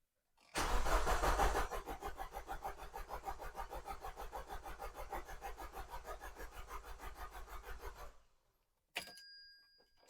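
A Vauxhall Zafira GSI with the Z20LET engine, a barn find unstarted for seven years, cranks hard on the starter in a fast rhythmic churn for several seconds before stopping, then a brief click and whir follow.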